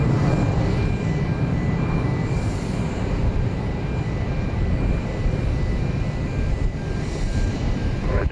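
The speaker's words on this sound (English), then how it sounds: "That was flight 702 NetJets going to Oklahoma City, a Bombardier Challenger 350." A NetJets Bombardier Challenger 350 business jet at Dallas Love Field, a steady loud rumbling roar of jet engines filling the scene from start to finish, with no break.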